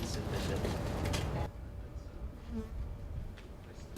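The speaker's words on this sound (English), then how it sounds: "Here, they've set up a beehive." Bees buzz around a rooftop beehive kept on a campus building: a loud, close swarm hum at first, then dropping to a fainter, steady drone with scattered buzzing passes.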